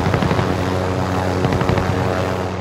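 A helicopter in a multiplayer shooter video game makes a loud, close, steady rotor drone with a rhythmic low chop.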